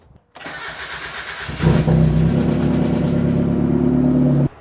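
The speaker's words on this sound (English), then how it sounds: "I'm going to start it up just to make sure it works." A Mazda Miata engine with freshly changed spark plugs cranks and fires up, a brief starter whir followed by a catch and rev before settling into a steady, close idle; no talking.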